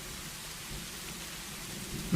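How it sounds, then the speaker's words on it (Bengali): Steady, faint rain in an animated cartoon about a poor farmer caught in a nor'wester storm, a soft continuous patter with low rumbling underneath. "এদিকে বৃষ্টি হচ্ছে, আলুতে একটু পানির প্রয়োজন ছিল।"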